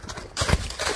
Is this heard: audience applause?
no